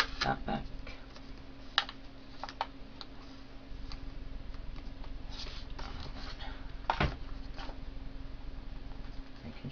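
Paper pages of a book being folded back by hand for book-folding craft, giving soft dry crinkles and light taps scattered through a quiet room, with a few sharper creases.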